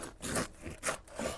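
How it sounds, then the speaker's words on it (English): A knife saws back and forth through a loaf of sourdough bread in three or four rough rasping strokes, close and fairly quiet, with no voices. "let's go ahead and cut off a couple little slices here so we can try it"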